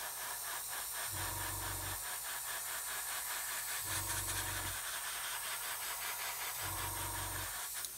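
An airbrush sprays paint onto the tubes of a 1/72 scale model U-boat, giving a soft, constant hiss broken by three short, low, buzzing bursts of a compressor or trigger at regular intervals.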